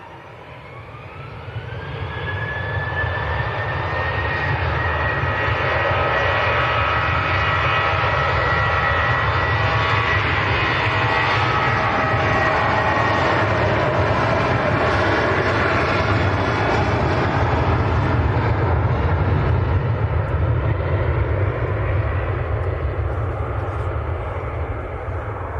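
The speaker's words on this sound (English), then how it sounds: "the Ryanair is just about to roll as well" A Ryanair jet rolling for takeoff at Manchester Airport, its engine roar building over the first few seconds into a loud, sustained rumble with a rising whine, heard from outside, with people talking over it.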